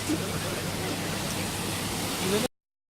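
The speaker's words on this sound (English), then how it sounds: "Now this is where the water goes out of the plant." Treated wastewater pouring out of the Cleveland wastewater treatment plant, a steady broad rushing flow like a small waterfall, loud and constant before cutting off abruptly.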